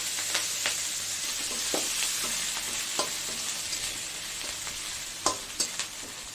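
Grated coconut frying in oil with bay leaf and green chillies, a close, steady sizzle broken by repeated scraping stirs and a few sharp spatula knocks near the end, no one speaking.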